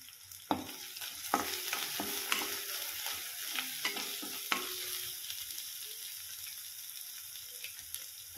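Ground turmeric, a quarter teaspoon of it, dropped into hot oil for a Maharashtrian gram-leaf bhaji, giving a quiet steady sizzle punctuated by several sharp spoon clinks and scrapes against the pan during the first few seconds, then softer crackling.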